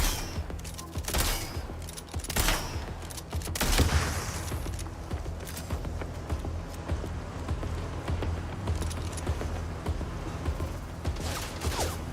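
Sustained gunfire against robots in the futuristic city game MindsEye, bursts of rapid shots and heavier bangs rattling on over a busy mechanical background, loud and close throughout.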